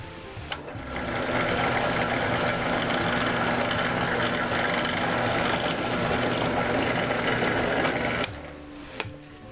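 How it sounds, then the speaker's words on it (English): A drill bores a hole at a 20-degree angle in wood for a paper towel holder, a loud steady whir lasting about eight seconds between a click at the start and a stop near the end. "And now we have a hole drilled at 20 degrees."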